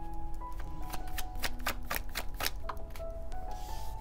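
A deck of tarot cards is shuffled close by, a series of crisp riffling bursts and soft slaps repeating in quick succession over a quiet room.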